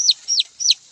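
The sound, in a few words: chicken used as bait in a trap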